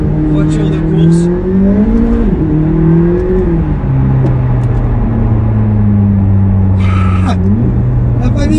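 A McLaren supercar engine revs and whirs up and down through several pitch sweeps, loud and close, with brief voices mixed in.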